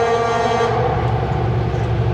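A freight train's horn at Rogers Pass in the Selkirk Mountains sounds as one long, loud, steady blast with a harmonic tone, echoing under snow sheds and bridges, with no talking.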